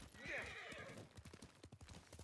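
A horse in the samurai video game Ghost of Tsushima lets out a high whinny, followed by a rapid run of galloping hoofbeats, fairly faint in the game mix.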